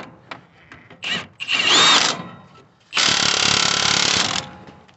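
Power tool bursts tightening the nut on the front shock absorber of a 2011 Nissan Sentra: a few short whirring pulses, then a longer loud sustained run of a couple of seconds, close by in a workshop.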